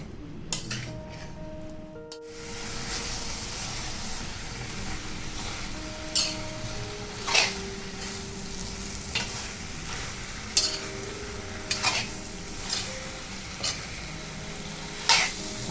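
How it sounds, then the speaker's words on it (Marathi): Brinjal curry sizzling steadily in a pan as red chili powder is stirred in, a continuous close fry with intermittent sharp spoon clinks against the pan. "लाल मिरची पावडर हलवून घेऊया व्यवस्थित असं मिक्स करूया"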